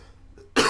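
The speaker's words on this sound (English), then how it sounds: "Excuse me, I got a cough real quick." A single short, sharp cough bursts out near the end after near silence, close to the microphone.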